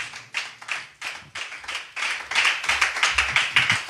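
A church congregation applauds in scattered rhythmic clapping that starts sparse and builds into denser, louder clapping in a reverberant hall.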